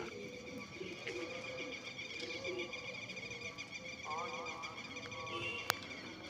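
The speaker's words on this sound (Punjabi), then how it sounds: "ਆ ਦੇਖੋ ਭਾਈ ਕਬੂਤਰ ਉੜਦਾ" Pigeons coo softly at a distance amid faint background chirps and insect buzzing, with a sharp brief click near the end.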